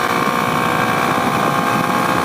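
A 2021 Kawasaki KLX 300 motorcycle engine holds a loud, steady high-pitched drone in sixth gear, a continuous close-up whine with wind noise and no pauses.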